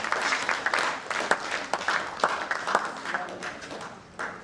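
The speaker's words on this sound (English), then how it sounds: "Can we give a another round of applause?" An audience at a presentation event at NIHORT on information and communication technology gives a round of applause: moderate, scattered clapping with distinct hand claps, a little muted and fairly steady throughout.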